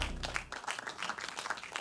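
Audience applause at a children's competition, a steady wash of many hands clapping at moderate distance, fairly quiet throughout with no pauses.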